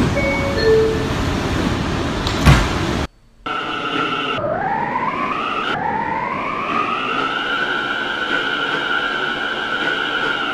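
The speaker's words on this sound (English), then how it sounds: "This is a Brooklyn-bound A express train." A Roblox R179 A express subway train in a video game runs with a steady rumble and a rising electric motor whine, after a brief cutout and a short chime-like burst.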